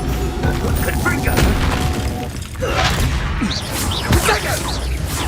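A Confringo fire-blast spell exploding in Hogwarts Legacy, heavy booming impacts and crashing debris in a loud, busy combat mix, with voices talking over the fight.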